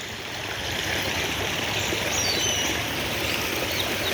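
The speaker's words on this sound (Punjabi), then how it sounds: "ਦੇਖੋ ਕਿਸ ਤਰ੍ਹਾਂ ਪਾਣੀ ਵਹਿ ਆ ਪੂਰੀ ਸੜਕ ਗੰਦਗੀ ਨਾਲ ਭਰ ਰੱਖੀ ਹੈ" Sewage water runs steadily along a road by a government hospital in a continuous gurgling wash, with faint bird chirps in the distance.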